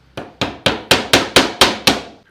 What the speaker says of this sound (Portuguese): pregar com 3 preguinhos, ele vai servir de guia para fazermos esse oblongo